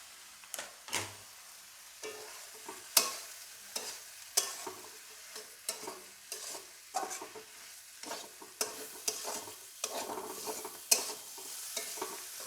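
Tomato goes into a pan of frying spices with a quiet sizzle, broken by repeated sharp clinks and scrapes of a spoon stirring against the pan.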